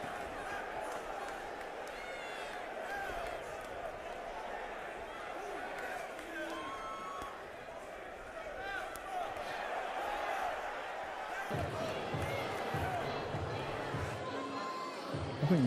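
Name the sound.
crowd applauding and cheering at heavyweight boxing fight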